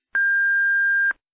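A single clean electronic tone from an answering machine, about one second long, steady and loud, starting and stopping abruptly with nothing else around it.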